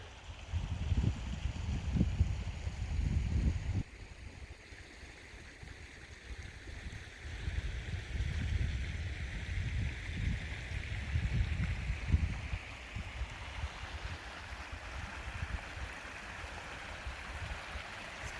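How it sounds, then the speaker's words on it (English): A stream running into a pool at a spot reached by motorcycle, its steady broadband rush of flowing water continuing throughout with low rumbling gusts, moderately loud and close, with no talk. "Got a stream feeding it right here."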